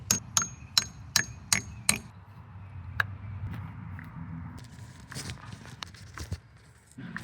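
Sharp hammer strikes drive anchors into a zippered stucco strip, six quick evenly spaced blows at close range, then a single tap followed by scattered lighter knocks and handling noises.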